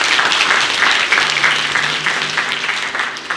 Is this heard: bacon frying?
no